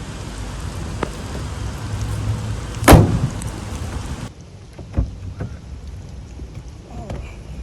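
Rain patters steadily in Malaysia with scattered drips and a sharp bump partway through, then the downpour sound drops to a quieter, thinner patter.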